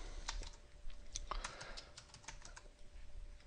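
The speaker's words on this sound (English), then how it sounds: "If we type in this mel command here," Keys on a computer keyboard clatter softly in a quick, irregular burst as a command is typed, with a faint steady hum behind it.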